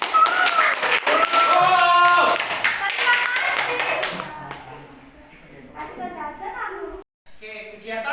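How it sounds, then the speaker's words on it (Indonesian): Students in a secondary-school chemistry class clap together briefly in a loud burst, then it fades into children's chatter and a teacher's voice. "Kita kasih tepuk tangan dulu ya."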